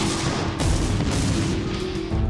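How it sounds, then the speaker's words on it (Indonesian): A monster explodes after being thrown into the sea in Kamen Rider Kuuga, giving a loud, sustained booming blast that rumbles on for a couple of seconds with crackling debris-like texture. "Setelah menusukkannya ke tubuh Bemyu, Kuga pun melemparkannya ke laut hingga monster itu meledak"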